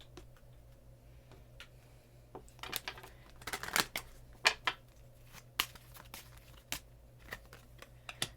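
Tarot cards being shuffled by hand, soft irregular clicks and riffles that cluster into a quick burst and then thin out into scattered taps, close and quiet, with no talking.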